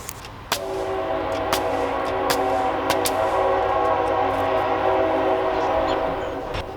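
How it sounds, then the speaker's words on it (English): Passing train sounding a long, loud, sustained horn blast that starts abruptly and holds for several seconds over rumbling rail noise. "Train's here."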